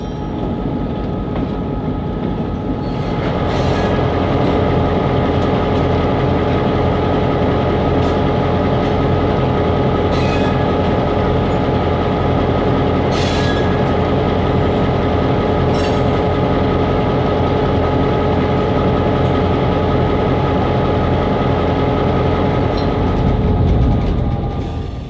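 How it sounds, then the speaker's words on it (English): A Mississippi Delta Railroad train rolling at a slow pace of about 10 miles per hour, a loud steady rumble of wheels and cars with rhythmic clicking over rail joints and a few sharp metallic squeals. "the train continues at a relaxing pace of 10 miles per hour"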